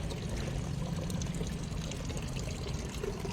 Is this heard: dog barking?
no